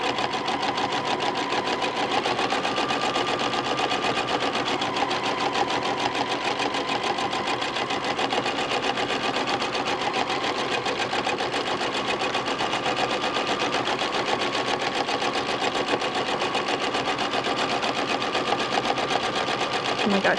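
Sewing machine doing free motion quilting on a log cabin block: a steady, rapid mechanical needle chatter runs without a break at an even, moderate loudness throughout.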